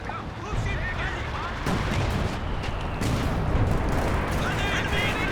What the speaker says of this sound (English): Gonna get some base howitzer action coming through.